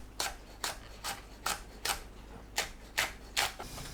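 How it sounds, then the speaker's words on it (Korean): Quick, steady knife chops slice Korean hot chili peppers on a board, about eight close crisp taps in an even rhythm with no voices. "청양고추를 썰어줍니다."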